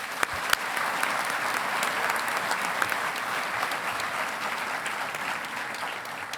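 A large audience applauds at a university engineering commencement ceremony, a sustained, even roar of many hands clapping across several seconds with a few sharper claps near the start.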